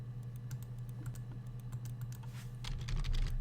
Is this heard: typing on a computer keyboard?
yes